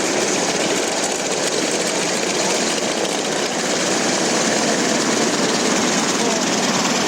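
Vintage aircraft engines run at the Duxford Flying Legends air show, a loud, steady broadband drone holding unbroken, with a commentator's voice faintly mixed in.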